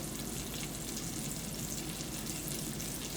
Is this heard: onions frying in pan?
yes